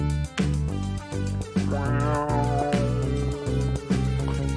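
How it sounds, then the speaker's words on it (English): A deep, wavy bass synth rolls through a drum and bass track, its low notes pulsing in a steady rhythm under brighter layered synth textures, loud and up front with no voices. "found this deep wave bass sound that I quite liked"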